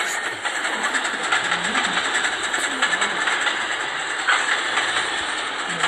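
Locomotive engine running in the train simulator game Trainz, a steady droning rumble with a hissing, airy texture that holds evenly throughout.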